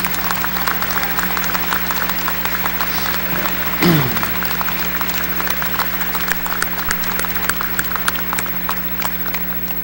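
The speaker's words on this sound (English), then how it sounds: "let's give them a round of applause" Crowd applause for graduates' parents, spouses and children at a spring commencement ceremony: sustained, even clapping from a large audience in a hall, with a low steady hum underneath and one brief louder swell midway.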